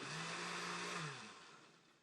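A cheap blender motor hums loudly while making a milkshake, then winds down and spins to a stop, its whine sinking and fading away.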